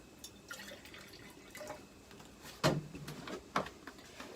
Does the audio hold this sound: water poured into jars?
yes